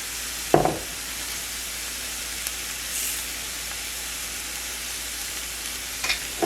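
Garden parsley and thyme sauteing in a pan, a steady soft sizzle and hiss throughout, with a sharp clatter near the start and small utensil knocks toward the end.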